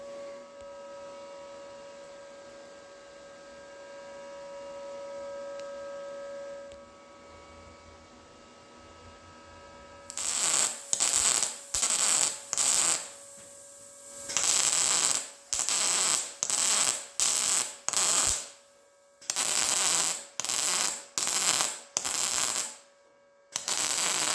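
Sheet metal cover being ground down with a power sander after welding, heard after a quiet humming stretch as loud, repeated bursts of harsh grinding of a second or so each, separated by brief pauses.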